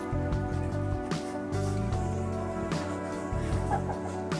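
Hens cluck in a steady stream of overlapping calls, close by, over a constant low droning hum.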